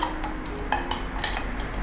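Plates being handled, with several light clinks and taps of dishes against each other, close and fairly quiet.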